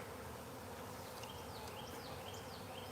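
Bees swarm at close range around a hive, with a dense, continuous buzz and individual insects droning past in brief rising and falling passes.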